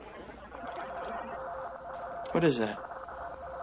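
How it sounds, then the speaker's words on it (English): A steady stream of faint Morse code beeps comes over a radio at a fast, even pace under background hiss, with a brief burst of talk near the end. "the Morse code's going too fast for you to pick that out"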